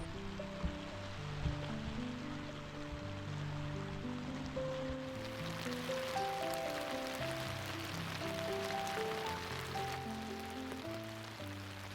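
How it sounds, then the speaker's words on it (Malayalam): Heavy monsoon rain falls steadily at Dal Lake in Srinagar, Kashmir, a continuous dense wash with no pauses under a low background tone. "കുറച്ച് കഴിഞ്ഞപ്പോഴത്തേക്കും മഴ നന്നായിട്ട് പെയ്യാൻ തുടങ്ങി"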